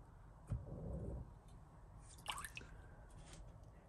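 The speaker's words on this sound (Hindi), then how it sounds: "एक बाउल में हमने 4 टेबलस्पून पानी डाल रहे हैं। इसमें हम सोया सॉस डालेंगे" Soy sauce drips and splashes into a small bowl holding a few spoonfuls of water, two brief wet plops in a quiet kitchen, close and soft.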